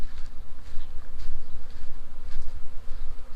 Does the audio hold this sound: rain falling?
no